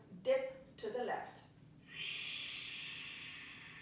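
A long, steady breathy exhale fills the second half during a standing yoga side stretch to the left, preceded by a couple of short, close vocal breath sounds.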